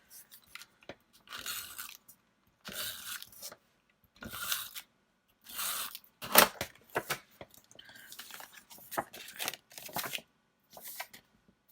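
Scissors cut a paper sticker for a December scrapbook page in short, crisp bursts of snipping. The runs of cuts are separated by brief pauses and sound close and fairly quiet.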